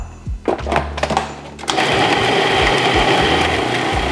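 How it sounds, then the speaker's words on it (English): Food processor whirring as it spins dough for Christmas baking: a few brief pulses and clunks, then a steady loud motor whine that labours as the dough thickens. "by the time it sticks to the side of the food processor and is slow to spin"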